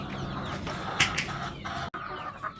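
Adler and Leghorn chickens clucking together in a home poultry pen, a steady chorus of overlapping clucks with a louder, sharper call near the middle and a brief break near the end.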